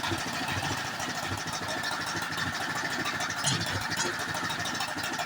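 A snowblower engine runs at a steady, busy idle after starting, a continuous mid-pitched mechanical rattle and drone without pauses and with no talking.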